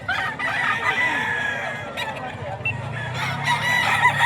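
A gamecock stag crows loudly and close amid the clucks and chatter of other fowl at a busy pet market in Bocaue, with steady crowd noise underneath.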